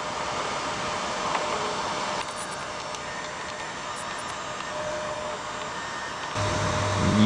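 A VEVOR MR-13A twist drill sharpener grinds the edge of a drill bit, a steady close whirring motor drone with a grinding hiss that holds constant throughout and swells slightly near the end.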